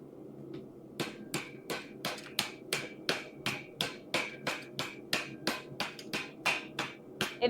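A hammer strikes over and over in a steady, even rhythm of about twenty sharp metallic blows, each ringing briefly, at moderate volume with nothing else heard.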